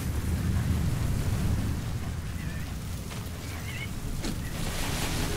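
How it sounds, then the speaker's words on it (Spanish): Roaring sandstorm in Metal Gear Solid V, a dense, heavy rumble of wind-driven noise filling the whole stretch, with faint chirps and a few brief gusty swells over it. "Ah, mira qué bien, tormenta de arena."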